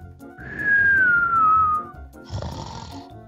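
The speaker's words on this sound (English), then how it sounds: "I'm finding it hard to sleep with Donut snoring" A cartoonish character snores in the Minecraft video game: one long whistling inhale that glides downward, followed by a breathy rasping exhale, close and fairly loud.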